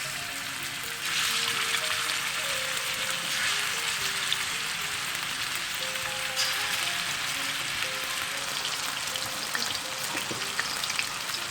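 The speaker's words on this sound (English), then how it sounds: "Let's do the shallow fry of the chicken pieces." Steady crackling sizzle of chicken pieces shallow frying in about a quarter cup of oil, continuous and fairly close, with occasional louder pops and no voices.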